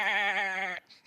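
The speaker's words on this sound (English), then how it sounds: "I'm not exactly sure who brought the goat to this party, but now it really is a party." One loud, close goat bleat, a wavering nasal cry lasting under a second, followed by a brief faint sound.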